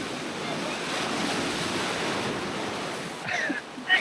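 Surf breaks and washes steadily onto the beach at Maya Bay, a continuous broad rush of water with wind noise on the microphone, then a couple of nearer splashes near the end.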